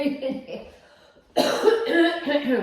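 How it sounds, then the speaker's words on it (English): A quiet stretch, then a sudden burst of harsh, repeated coughing that continues in a rough fit to the end. "I'm going to have a coughing fit now because the glitter is getting down my throat."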